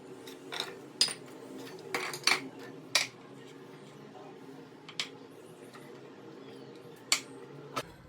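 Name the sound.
mixing vegetables in a pot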